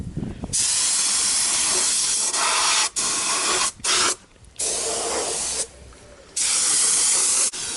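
Spray gun putting a first coat of paint on car parts in bursts of loud, close hissing, split by short pauses of a second or so, with no talking.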